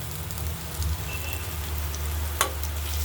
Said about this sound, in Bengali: উচ্ছে কুমড়ো ভাজা হচ্ছে, আর একটুখানি হোক, তারপর দেখাচ্ছি।